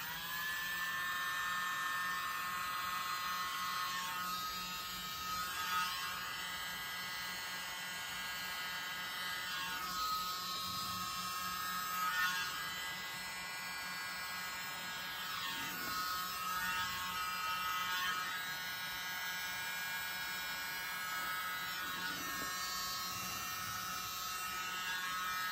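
A tiny handheld blower whirs with a thin, high-pitched electric buzz as it pushes cell activator across wet acrylic pour paint, steady and close throughout with slight pitch wavers.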